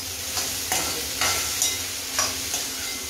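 Okra (bhindi) with green chillies frying in a kadhai gives a continuous near sizzle, broken by several short spatula scrapes spaced about half a second apart, with no voices.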